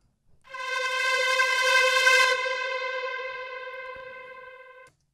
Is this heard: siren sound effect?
yes